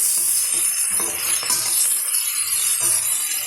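Whole spices sautéing in a pan for a hotel-style chana gravy give a steady, close sizzle with light stirring scrapes and clinks throughout, and no talking.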